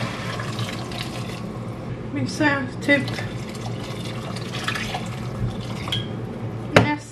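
Tap water pours into a cooking pot to start a pot of white beans, a steady running stream heard close up with occasional clinks while a person speaks over it.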